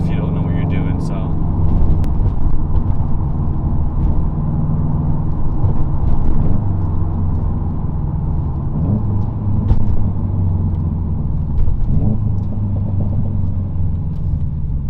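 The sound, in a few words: car engine revving through gears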